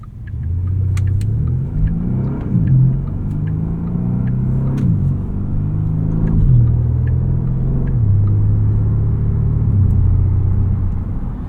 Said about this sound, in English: The main character of this Panamera GTS is that 4-liter V8. It just sounds fantastic under your right foot.